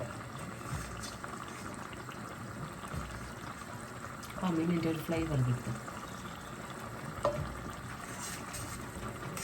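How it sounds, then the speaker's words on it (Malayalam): Fish curry gravy made with fish masala powder and no oil boils in a pan, a soft continuous bubbling and simmer that goes on throughout, with a brief stretch of speech over it midway. "തിളച്ച് വന്നിട്ടുണ്ട്"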